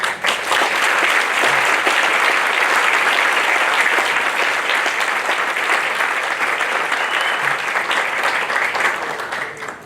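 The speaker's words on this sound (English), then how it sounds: "You all deserve a round of applause and thanks." Sustained applause from an audience at a ribbon cutting ceremony, dense and steady throughout, loud and close, fading slightly at the end.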